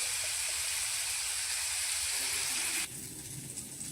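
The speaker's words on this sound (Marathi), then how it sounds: "टमॅटो फ्राय करण्यासाठी अर्धा चमचा तेल ओतून घेऊया. सॉफ्ट होईपर्यंत चांगलं एकदम परतून घ्या." Tomatoes frying in half a spoon of oil for a restaurant-style paneer curry, a steady, loud sizzle that drops suddenly to a quieter hiss near three seconds, with no voices.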